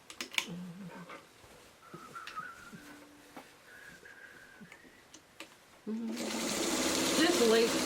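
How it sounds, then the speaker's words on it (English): A sewing machine does light quilting stitches on a simple tote bag, starting after a stretch of quiet handling and running as a loud, steady whir close by, with talk before it. "Just light quilting. That's all we're looking for."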